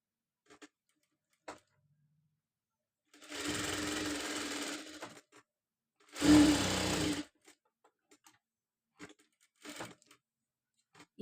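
A sewing machine stitches a triangular fabric piece in two short, close bursts of fast whirring, separated by quiet gaps with faint clicks and small handling taps.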